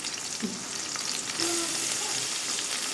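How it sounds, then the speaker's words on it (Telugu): Onions and green chillies sizzle in hot oil in a pan, a steady close frying crackle that grows slightly louder partway through, with no talking. "ఇప్పుడు ఆయిల్ హీట్ అయింది కదా, ఇప్పుడు మనం పచ్చిమిర్చి వేసుకున్నాం"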